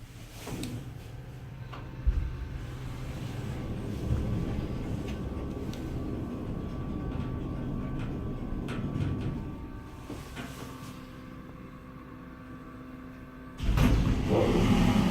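A 1965 Montgomery hydraulic elevator's motor hums and whirs steadily at mid volume through a long stretch, with rattling clunks near the start and a louder thump near the end.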